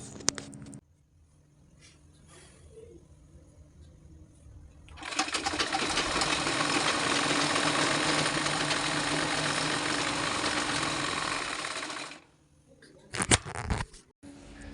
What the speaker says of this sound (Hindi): और इधर सिल रहा हूँ मैं सिलवार